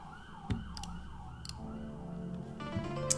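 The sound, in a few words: ambulance or police siren passing outside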